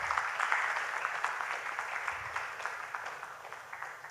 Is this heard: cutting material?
no